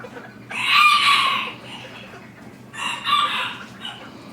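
Chocolate Serama bantam chickens crow and cluck in two loud bursts close by, the second shorter, with a low steady hum underneath.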